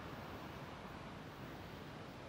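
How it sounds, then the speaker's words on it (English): Faint ocean surf rolls steadily on the coast near Rocky Hills, Tasmania, a distant, even rushing wash with no distinct breaks. "There's the ocean."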